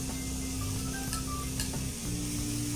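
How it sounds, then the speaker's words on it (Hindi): Onion, capsicum and boiled chickpeas stir-fried in a pan, giving a continuous close sizzle with a low background hum and a few faint clinks of stirring. "इसे कर लेंगे स्टर, और जब ये अनियन और कैप्सिकम हाफ डन हो जाए, अच्छे से स्टर फ्राई हो जाए"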